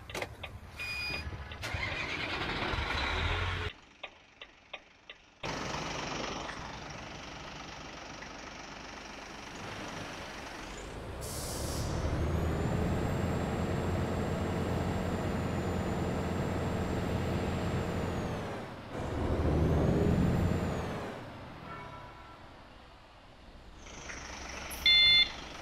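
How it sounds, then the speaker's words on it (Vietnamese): Sacman F3000 tractor truck in Euro Truck Simulator 2 cranking over, then its engine starting and idling steadily with a rising whine, fairly quiet, with clicks and a brief gap between sounds. "Bây giờ mình sẽ khởi động động cơ lên"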